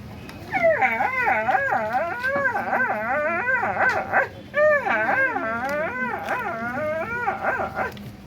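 A voice imitates a hungry dog, producing a run of whining barks and drawn-out howls in two loud bursts with a short pause between, performed at a Kannada cultural festival.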